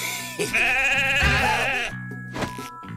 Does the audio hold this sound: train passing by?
no